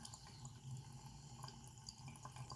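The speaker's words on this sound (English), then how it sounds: "There's still a lot of water coming out." Water runs steadily out of a gas water heater tank as it drains, a continuous close splashing flow with small drips layered over it and no talking.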